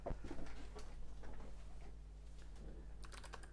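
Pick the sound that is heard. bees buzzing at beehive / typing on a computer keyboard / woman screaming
typing on a computer keyboard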